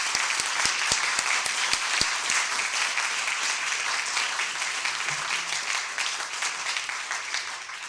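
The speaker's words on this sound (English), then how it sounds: "I would like her to welcome you with a big applause" A school audience welcomes Helen Clark with steady applause. A few sharp, distinct claps come first, then the clapping settles into a sustained, moderately distant wash that continues to the end.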